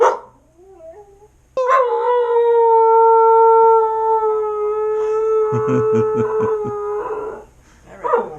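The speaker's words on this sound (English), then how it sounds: "how about you give us a howl?" A dog lets out a long, sustained howl, rising and holding steady with wavering harmonics, preceded by a few short whines and ending in softer yips.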